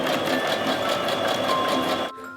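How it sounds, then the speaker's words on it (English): Sewing machine stitching a seam on bike pants, a steady fast mechanical whir running continuously and close up before stopping abruptly near the end. "I'm going to sew right the way around to the seam and then up the back."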